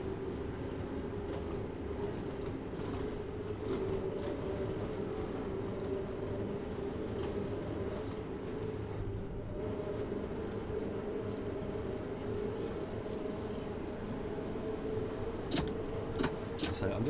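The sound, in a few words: Bakerloo Line train running, from the video game Train Sim World 2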